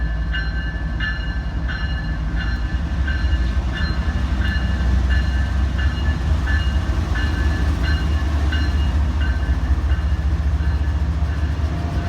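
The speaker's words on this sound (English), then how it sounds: "As you can see, the train right down Main Street, and it was really long." A long train rolls steadily down the middle of a town's main street, a loud, continuous rumble with regular rhythmic clicks from the wheels passing close by for the whole stretch.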